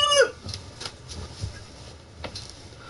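Chickens clucking on a video game farm, starting with a loud close squawk, then softer scattered clucks against a quiet game backdrop.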